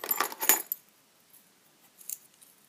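Brass keys jangle and clink in a brief bright burst at the start, followed by near silence and a softer second jingle, close up and alone.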